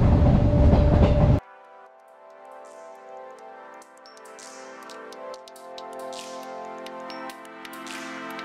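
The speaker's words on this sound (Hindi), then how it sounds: "फ्रेंड्स, जो हमारी ट्रेन है वो चल पड़ी है" Passenger train rolling through green fields on the way to the Kartarpur Corridor, a steady layered rumble and rail clatter with occasional high squeals, continuous after a brief loud burst at the start.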